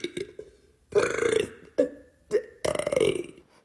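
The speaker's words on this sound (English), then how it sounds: "do you like her farts and burps?" A woman burps repeatedly, with several loud, drawn-out belches and a few shorter ones in an irregular rhythm, close to the mic and with no talk.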